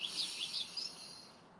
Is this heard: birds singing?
yes